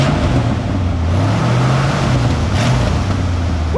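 A 1968 Ford F100 engine with a four-barrel carburetor conversion idles loud and close, rising slightly in pitch as the accelerator is tapped, a steady throaty rumble throughout with no talking.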